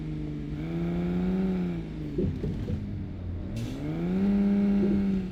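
A Volkswagen 4x4 mountain car in Euro Truck Simulator 2, driving Peruvian roads: a steady simulated engine drone that dips and climbs again as the revs change, moderately loud and alone.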